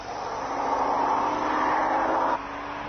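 Rover 75 V8 climbing Admiral Hill, a Wairarapa hill-climb road, with a steady engine drone held at a loud, even level before easing off sharply near the end.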